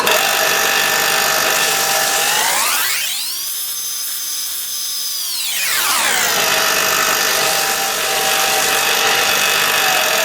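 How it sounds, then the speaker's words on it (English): A benchtop bench grinder flattens the cut faces of wooden pieces, its loud steady motor whine sagging in pitch for a few seconds as the wood presses against it, then spinning back up, with no talk. "we're just going to flatten off the surfaces on the bench grinder"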